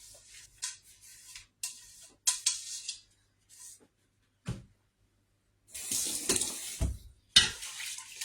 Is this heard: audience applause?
no